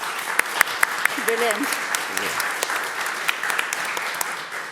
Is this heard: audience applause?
yes